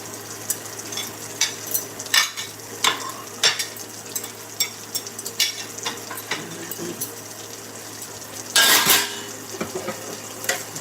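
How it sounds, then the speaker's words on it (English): Dishes, pots and cutlery clink and clatter irregularly at close range as a dishwasher is unloaded at home, with sharp metallic knocks, a louder rattling burst near the end and steady background hiss. "Take everything off the dishwasher."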